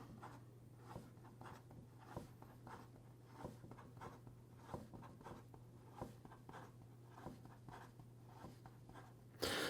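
Fast pen strokes from a Visconti Homo Sapiens Crystal Dream fountain pen scratch across paper in a steady, rapid rhythm of short scrapes, close and fairly quiet over a low hum, ending in a brief louder rustle.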